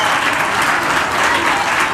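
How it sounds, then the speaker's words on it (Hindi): An audience at a career counselling session applauds itself, a dense, even burst of many hands clapping close by with no voices. "शाबाश, अपने लिए ताली बजाओ इसके लिए"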